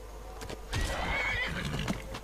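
A horse in the Skyrim video game gives a loud whinny with clopping hooves, close and clear over faint background hum.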